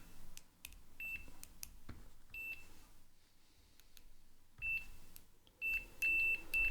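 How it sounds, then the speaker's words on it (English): A multimeter in continuity mode gives several short high-pitched beeps at irregular intervals while testing pedalboard audio wiring, faint and close, with light handling clicks and scraping between them. "And now I set my meter to continuity mode"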